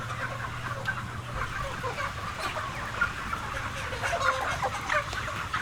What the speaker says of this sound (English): This chicken flaps her wings, trying desperately to stand up, but to no avail